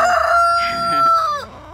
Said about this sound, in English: I have to be vigilant because my rooster Toothless has, that's him.